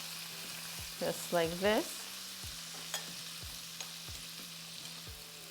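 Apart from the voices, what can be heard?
minced garlic and sun-dried tomatoes frying in a pan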